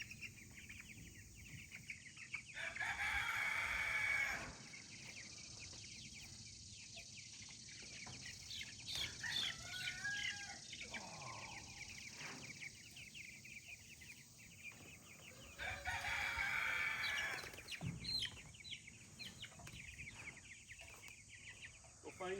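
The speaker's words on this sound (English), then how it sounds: "Come here, rooster." Backyard meat birds being moved to pasture: chickens cluck and chatter steadily throughout, with a louder rooster-like call twice, close by and mixed with handling noise.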